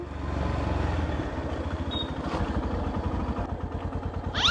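A motorcycle engine runs close by with a fast, even putter that rises and surges as the bike is ridden away, with a slight mechanical clatter and no voices.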